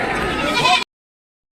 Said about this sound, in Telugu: మేకపోతులు కదా, మేకపోతులు.